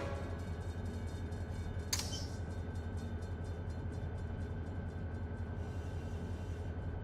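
A single locomotive in the Run 8 train simulator rumbles with a constant low diesel drone and rhythmic rail clatter, broken by one brief sharp metallic clank, with no voices.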